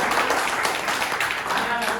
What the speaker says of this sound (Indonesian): Boleh kita beri tepuk tangan?